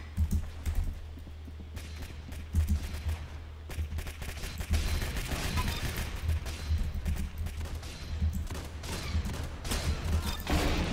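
Gunfire in the Roblox game Arsenal, rapid bursts of shots mixed with clattering keyboard typing and a low steady hum, fairly quiet and busy throughout.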